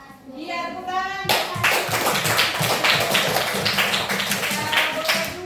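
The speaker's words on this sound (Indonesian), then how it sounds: "tepuk tangan" Classroom clapping for a group of pupils after their presentation, a steady burst of many hands that starts abruptly and carries on throughout, with a voice heard faintly at first.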